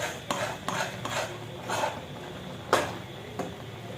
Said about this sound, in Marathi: पिठी टाकल्यानंतर लगेच आपल्याला असं हे छान एकत्र मिक्स करून घ्यायचंय